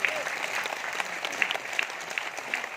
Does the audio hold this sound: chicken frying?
no